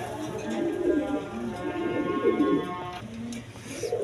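Paired pigeons of a fancy breed cooing in a loft, soft repeated throaty coos running steadily close by, with a voice speaking over them at times.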